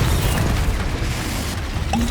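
Confringo blasting spell detonating in Hogwarts Legacy, a dense booming explosion with rumbling low end that fills the whole moment, loud and close with no voices over it.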